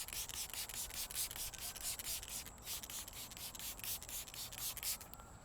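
Squeegee scrubber end rubbing over grime built up on the rear hatch glass of an Alfa Romeo Stelvio, a steady close scraping swish with continuous rhythmic strokes throughout, no talk.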